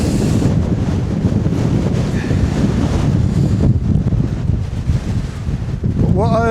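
Strong wind of roughly 40 to 50 mph buffets a Hilleberg tent at a solo mountain wild camp, a loud continuous roaring rush with gusty flapping.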